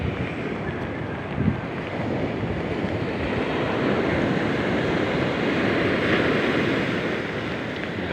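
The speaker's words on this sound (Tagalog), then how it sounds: "Lumaki na yung mga alon." Large ocean waves surge onto a beach under light drizzle, a steady broadband wash of surf blended with gusty wind buffeting the microphone, with no one speaking.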